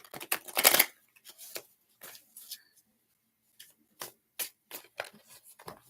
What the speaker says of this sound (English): Let me shuffle these cards a little bit more